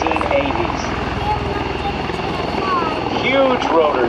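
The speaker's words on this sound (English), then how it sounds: "It is known as a tilt rotor airplane." A CV-22 Osprey tilt-rotor aircraft with huge rotors flies a demonstration at the 2007 Vectren Dayton Airshow, its deep rhythmic rotor thump pulsing steadily beneath an announcer's commentary.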